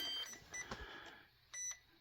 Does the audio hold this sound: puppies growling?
no